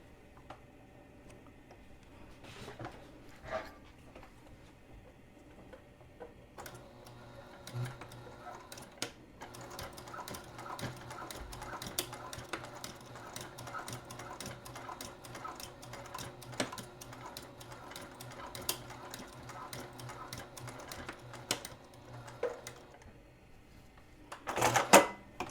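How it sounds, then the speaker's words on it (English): A sewing machine stitches across a small fabric scrunchie keychain, giving a quiet run of rapid ticking needle clicks that carries on for many seconds with brief pauses, rising to a louder clatter near the end. "And then we're just gonna stitch across."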